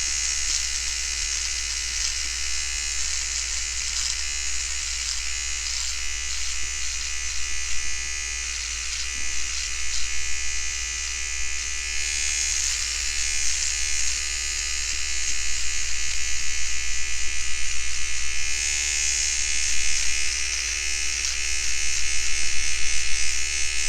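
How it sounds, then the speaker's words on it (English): Microtouch Solo electric razor buzzing steadily and close up as it shaves facial hair, a continuous motor whine with rasping cutting texture that grows slightly louder toward the end, no voices. "let's see how close this bare head hits this facial hair I've got going on."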